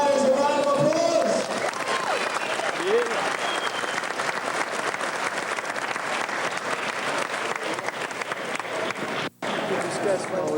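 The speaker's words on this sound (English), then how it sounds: "Let's give both fighters a round of applause." Crowd applause for two fighters at a Sambo competition, sustained dense clapping from a large audience filling the whole stretch, with a brief dip near the end and some voices mixed in.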